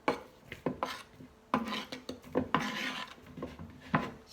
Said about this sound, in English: So I peel off the banana and I slice it up.